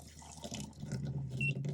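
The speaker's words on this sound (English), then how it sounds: "you do have to hold this button down, which unlocks it, and then you can get hot water" A Waterdrop K6 reverse osmosis filter dispenses hot water in a short close stream with a low hum, punctuated by brief electronic beeps from its buttons.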